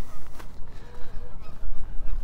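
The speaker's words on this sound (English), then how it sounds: "patches of geese" Geese honking around open water at a city park pond on the last day of winter in Regina, with several uneven calls rising over low outdoor rumble.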